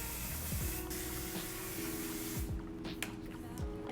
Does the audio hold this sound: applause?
no